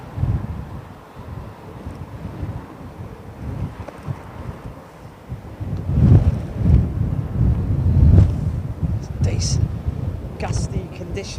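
Gusty wind rumbles and buffets the microphone at London Heathrow Airport, swelling and easing in strong gusts, with some voices faintly underneath.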